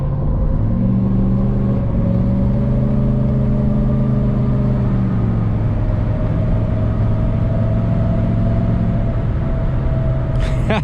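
A straight-piped 6.7 Powerstroke diesel truck with a 5-inch exhaust accelerates hard, its loud, deep exhaust drone rising in pitch through a long pull and holding steady and close for about ten seconds.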